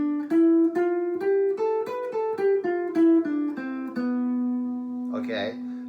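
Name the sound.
B Locrian mode scale played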